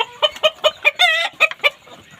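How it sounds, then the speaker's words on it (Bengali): Fayoumi chickens and roosters cluck nearby in a run of short, loud, evenly spaced calls, with one longer drawn-out cackle in the middle, and no talking. "এই যে দেখুন আমার দুইটা মোরগ আর এইখানে পনেরো পিস মুরগি আছে"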